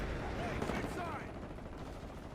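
Gunfire fills a Call of Duty Modern Warfare match in a loud, busy wash of rapid shots and rattling bursts. It sounds steady over a short stretch, with faint game chatter mixed in.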